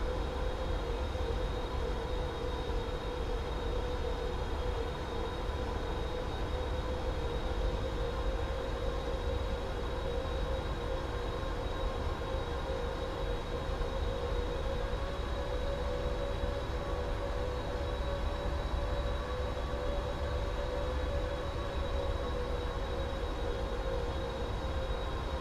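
PMDG 777-300ER thrust reversers in Microsoft Flight Simulator, a steady, loud broadband roar with a sustained whine held evenly for the whole stretch, no voices over it.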